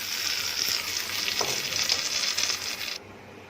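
A tempering of mustard seeds, urad dal, dried chili and curry leaves crackles and sizzles steadily in hot oil, then cuts off abruptly near the end.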